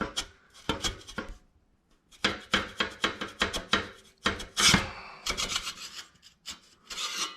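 A stock exhaust baffle on a Harley Davidson Sportster is worked out of the muffler with a little resistance, giving a run of scraping, rasping metal strokes in irregular bursts with short pauses between them, close and fairly quiet, with no talking.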